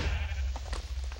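A sheep in Minecraft gives a short bleat, heard close and clear over a low, steady background rumble.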